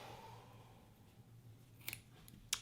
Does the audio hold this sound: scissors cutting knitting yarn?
yes